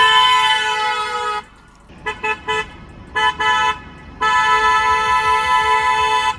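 A loud, sustained aftermarket car horn blares, breaks into a series of short honks, then returns to one long continuous blast.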